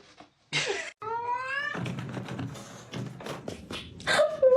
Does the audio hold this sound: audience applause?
no